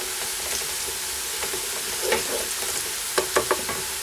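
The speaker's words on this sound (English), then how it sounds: "Okay, the onions are beautifully browning." Onions frying and browning in a pan for a lamb curry, a steady sizzle punctuated by a few sharp stirring scrapes near the end, no talking.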